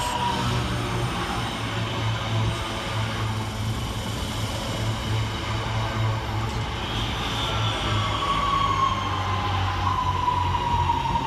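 West Midlands Railway class 323 electric units arriving at Duddeston station on a Cross City service, a steady rumble and low hum growing slightly as the train nears, with a high squeal of wheels or brakes late on.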